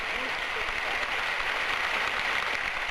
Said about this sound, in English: All applauded Margaret Smith